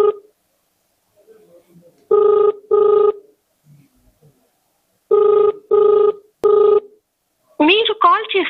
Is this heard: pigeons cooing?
no